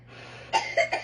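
A person coughs after eating spicy ramyon noodles, giving three short, close coughs in quick succession after a quiet start.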